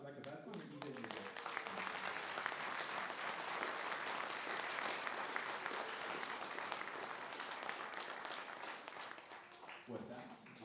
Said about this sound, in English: So can you even run applause for that?